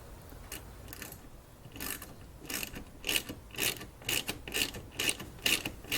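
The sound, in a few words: tightening bolts on a Jeep Wrangler Hi-Lift jack mount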